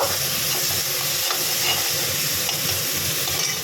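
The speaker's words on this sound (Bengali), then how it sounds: "একটু জিরে গুঁড়ো দিয়ে একটু ভালো করে নাড়বো। এই মশলাটা ভালো করে একটু ভেজে নেব।" Spices with turmeric and cumin powder sizzle and fry steadily in a pan while being stirred, a close, continuous hiss with scraping from start to end, without any talk, in the making of a fish-head and cabbage dish.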